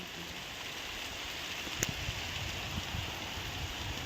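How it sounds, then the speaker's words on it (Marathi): Rain falls steadily in a Konkan mango orchard, a soft, even hiss with faint patter and one brief tap, distant and low in level throughout. "चला आला पाऊस परत"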